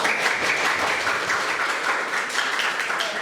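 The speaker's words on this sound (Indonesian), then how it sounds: "Tepuk tangan untuk kita semua." Classroom hand clapping during a lesson, a continuous, even burst of many hands applauding together, close and fairly loud with no pauses.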